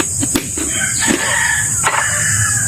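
A native chicken rooster crows loudly and close by on a farm, one drawn-out call filling the short stretch, with faint clucking around it.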